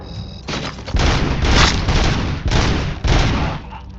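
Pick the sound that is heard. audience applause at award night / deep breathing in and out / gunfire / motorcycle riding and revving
gunfire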